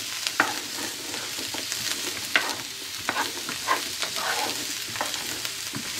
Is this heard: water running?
no